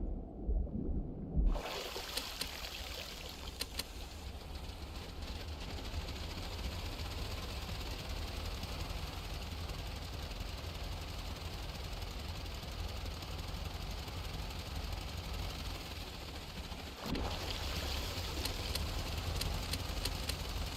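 Boat engine in Stormworks idling low and steady after being throttled back, a continuous rumbling drone with a slight rise in level near the end.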